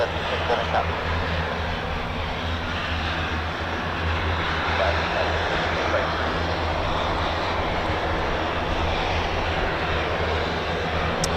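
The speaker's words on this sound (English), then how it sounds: "potentially a Wolfhound, a C-146. You can just about hear its turbo prop engines." A C-146 Wolfhound turboprop's engines drone steadily at a distance at RAF Mildenhall, a broad, continuous rumble with a speaking voice over it.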